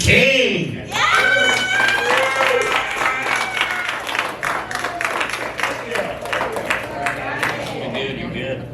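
A handful of people clap for a comedian at a tiny comedy show in Fort Worth, Texas, a thin but steady patter of hands lasting throughout, with a voice speaking over the start.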